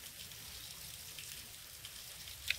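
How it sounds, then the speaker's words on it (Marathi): Steady light morning rain falls during a pilgrims' walking trip toward Pandharpur, a faint, even patter and hiss with no voices, plus one slightly sharper drip near the end. "आतां सकाळ फुडें पावस पडपाक लागलो."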